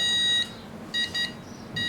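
A computer motherboard emits a run of short electronic POST beeps in bursts, a few pulses with gaps between them over a low background hum.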